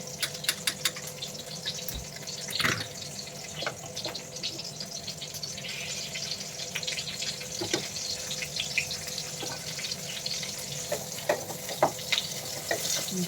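A pot of water for sambar heats up toward a boil, a continuous bubbling, hissing wash with scattered small pops and clinks, close and even throughout, without speech.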